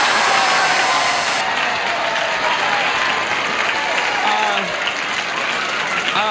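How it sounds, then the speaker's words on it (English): Studio audience applauding on a 1975 TV game show, loud dense clapping throughout with crowd noise and some voices mixed underneath. "the people who are applauding are not the winners."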